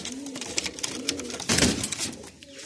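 A pigeon coos in low, repeated throaty bursts, close by, with a brief flutter of movement.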